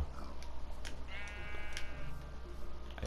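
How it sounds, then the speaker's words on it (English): A Minecraft llama gives a single wavering, nasal bleat lasting about a second, heard up close over a steady background hum. "this is my llama"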